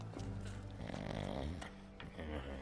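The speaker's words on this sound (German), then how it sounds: "Er schnarcht." A man snores loudly in the Sherlock Holmes The Awakened video game, a rough, rumbling snore with snorting texture heard close and continuous, over a dense background of game sound.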